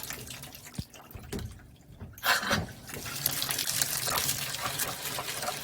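Water runs from an RV faucet during winterizing, sputtering and gurgling at first as pink antifreeze pushes through the lines, then settling into a steady, close, continuous flow into the sink.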